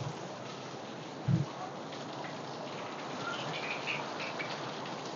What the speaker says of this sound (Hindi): कितनी देर बारिश पड़ रही है।